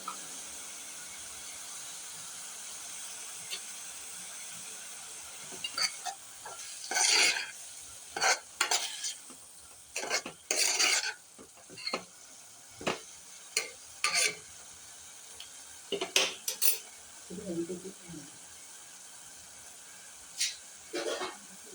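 Mushrooms frying in a pan for a Kerala-style mushroom thoran, with intermittent stirring scrapes and clatters over a steady low sizzle, fairly quiet and close, no talking.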